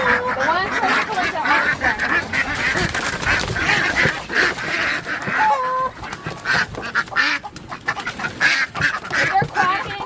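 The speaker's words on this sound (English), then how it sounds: "if they're quacking, try not to get them." Several ducks quack loudly and continuously close by during a poultry round-up for a new crate, with honking fowl calls overlapping and a person speaking at times beneath the flock.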